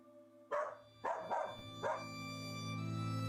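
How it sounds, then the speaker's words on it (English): A dog in a spooky video game demo gives four sharp, close barks with low growly edges, spaced irregularly over a steady droning game background. "You hear a growl and Huxley sinks his teeth into his foot."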